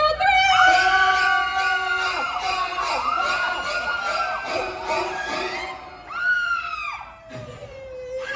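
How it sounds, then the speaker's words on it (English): Crowd at a special effects show screaming on cue, several high, drawn-out shrieks overlapping and then fading, with one final lone scream. "Scream on three, Yvonne."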